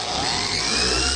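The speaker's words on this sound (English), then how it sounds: "I'm just letting basically the weight of the polisher do the work." Polisher running steadily on motorcycle paint, a close continuous motor whine and hum with no change in speed over a short stretch, and no voices.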